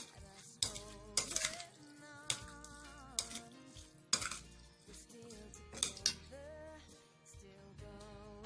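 A utensil clinks and scrapes against a bowl as a slimming-recipe mixture seasoned with white pepper is stirred, with irregular sharp metallic taps and ringing tones spread across several seconds, close up and with no talking.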